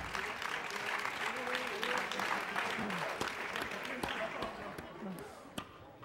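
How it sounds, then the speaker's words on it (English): Applause from a live audience at a mind-reading stage show, a faint, steady patter of many hands clapping that lasts throughout, with crowd voices underneath. "Give her a round of applause."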